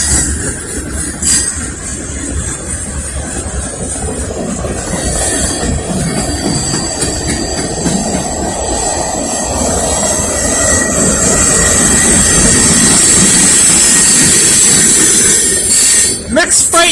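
A Norfolk Southern mixed freight train with boxcars and intermodal cars rolls by near a station, a loud continuous rumble with wheel clatter building up, then high metallic wheel squeal in the later part.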